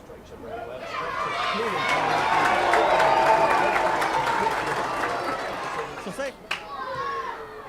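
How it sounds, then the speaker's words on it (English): A rugby stadium crowd at a Six Nations match roars with cheering and applause after a successful kick, the sustained wash of noise swelling and then easing off over several seconds. "The crowd will tell you that one's over."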